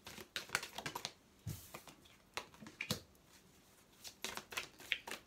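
Tarot cards are shuffled and drawn for a nine-card spread, with rapid close riffling and snapping clicks in quick bursts separated by brief pauses.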